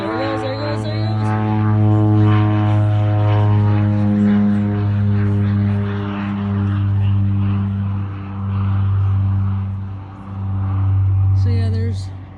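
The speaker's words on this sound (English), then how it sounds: "There's the tandem plane going." A tandem propeller plane drones steadily overhead in Arizona, a loud low engine hum that swells and fades in slow waves over the whole stretch, with faint distant voices and brief clatter at the start and end.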